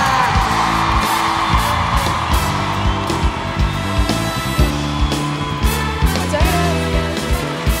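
A dense festival crowd at the Viña del Mar song festival in 2023 yells, whoops and cheers continuously and loudly over music during a performance, with repeated swells of shouting.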